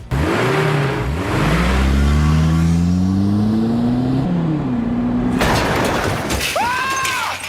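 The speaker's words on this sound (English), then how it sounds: "Banzai tests it by driving his jet car through a mountain." Jet car from a science-fiction film driving through a mountain, a loud sustained engine roar with sweeping pitch rises and falls, then a harsh noisy burst and a final whooshing tone.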